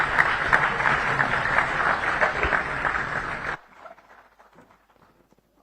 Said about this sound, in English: Another round of applause to the First Lady of the Democratic Republic of Sao Tome and Principe.